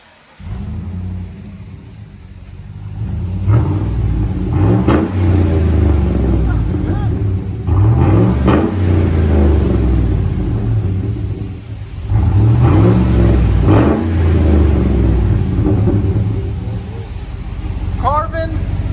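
Chevy/GMC 5.3L V8 with a 3-inch exhaust and cutout, revved several times: deep throaty bursts rise over a rumbling idle and then settle back down, loud and close, while a person talks between the revs.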